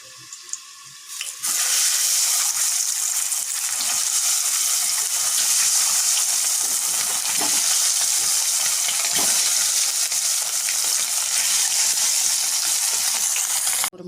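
Boiled eggs sizzle as they fry in hot oil in a pan, a steady loud crackle starting after a brief quieter moment and continuing throughout.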